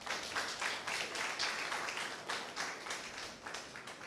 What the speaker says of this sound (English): I think Volta region needs a round of applause for this.